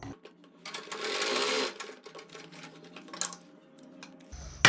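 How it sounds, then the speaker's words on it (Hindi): A sewing machine runs in short bursts, stitching a basting seam along the neckline of a suit, with a fast whirring stitch rhythm, pauses and handling clicks in between. "तो हम पहले यहाँ पर कच्ची सिलाई लगा लेते हैं इस प्रकार से।"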